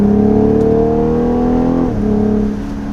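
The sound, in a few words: BMW six-cylinder engine revving, exhaust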